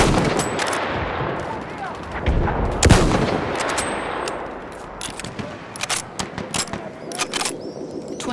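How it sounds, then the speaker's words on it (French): Enemy machine gun fire in a WWI-era video game battle at Soissons, loud rattling bursts and scattered gunshots with distant artillery-like booms and a sharp crack near the middle. "Mitrailleuse ennemie en vue."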